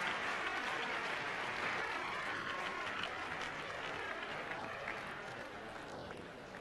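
Arena crowd at a figure skating competition applauding and cheering a skater, a steady broad wash of clapping that stays fairly even and fades slightly toward the end.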